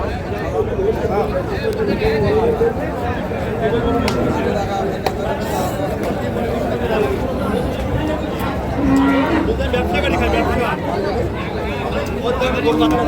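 Holstein Friesian bulls lowing amid a busy cattle market's steady crowd murmur in Dinajpur, Bangladesh, with people talking and bargaining throughout and occasional clinks and shuffles nearby.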